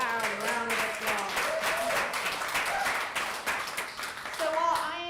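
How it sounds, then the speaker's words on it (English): A church congregation claps loudly for Rachel in a rapid, dense patter of many hands, with voices and a child's speech mixed in while the applause swells and fades. "Let's give Rachel a really loud round of applause."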